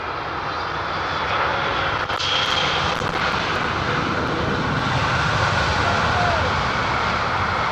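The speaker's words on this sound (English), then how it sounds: "look at that landing into a tailwind there." A passenger airliner, an Airbus A319 or A320, landing into a tailwind at London Heathrow Airport: a loud, steady engine roar and broadband rush holding for several seconds, with commentators talking over it.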